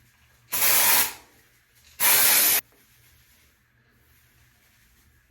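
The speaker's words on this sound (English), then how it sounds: "After I use dry shampoo" Two separate bursts of dry shampoo from an aerosol can hiss loudly up close, each lasting about half a second, with quiet pauses before and between them.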